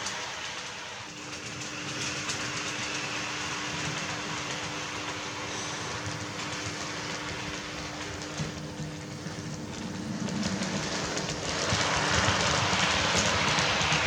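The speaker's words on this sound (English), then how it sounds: "Made its first circuit of the layout, and all the rolling stock got over the points, no problem" A PIKO HO-scale model freight train runs around a layout, a steady close rumble and clatter of wheels on track that grows slightly louder toward the end.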